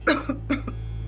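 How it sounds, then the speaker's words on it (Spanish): Two harsh, close coughs burst out in quick succession, each with a short tail, over a steady low hum. "Cuando le dan sus ataques de tos, no para."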